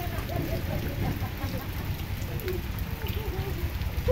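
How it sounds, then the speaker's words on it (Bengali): Rain falling outside a village home during a storm, a steady dense patter heard at a moderate distance with faint indistinct voices underneath. "এই যে বাইরের দিকে কেমন বৃষ্টি হচ্ছে।"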